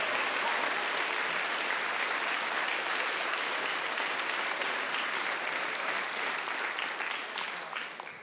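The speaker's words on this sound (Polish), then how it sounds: "Brawa dla pani." Steady, loud audience applause at a Polish cabaret show by Kabaret Młodych Panów, dense clapping from a theatre crowd sustained throughout and tapering slightly at the end.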